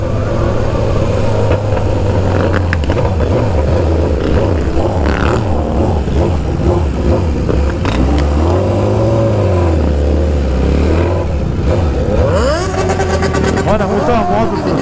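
A BMW S1000RR motorcycle engine revs loudly and up close at a crowded street gathering, rising and falling in repeated throttle bursts over a steady idle, with voices talking nearby.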